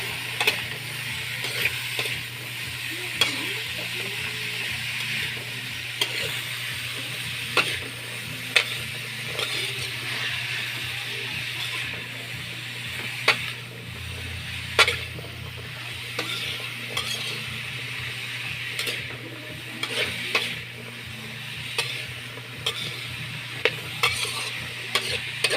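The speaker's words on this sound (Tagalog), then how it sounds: "At halu-haluin lang hanggang sa lumambot siya ng konti" Sautéed chayote stirred in a pan over a steady background sizzle, with a spoon or spatula scraping and clinking at irregular intervals close up, no voices.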